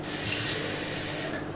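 Baby bottles being rinsed with water, a steady hiss of running or splashing water that stays fairly even and close throughout, with no talking.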